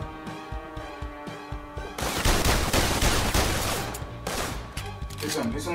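Gunfire erupts in the VR game London Heist, first as separate sharp shots, then a dense, loud barrage of rapid fire with clattering impacts that eases slightly before picking up again, with voices mixed in.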